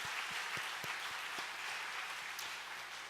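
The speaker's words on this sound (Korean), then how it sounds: "우리 그분들께 감사의 박수 한번 같이 드릴까요?" A church congregation at a special early-morning prayer meeting claps in thanks, a soft, even wash of applause with a few distinct nearby claps standing out, no voices over it.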